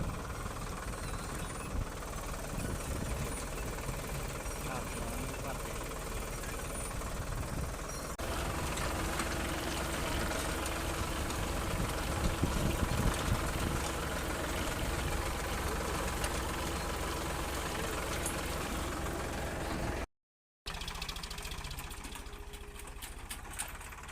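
A tractor runs steadily while sowing peanuts in a field, a continuous close engine drone with a brief cut near the end, then a quieter stretch.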